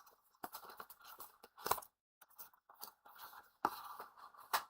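Scissors trimming paper craft pieces so they match in size for a Halloween 3D card: a few quiet, crisp snips in short bursts, separated by brief pauses.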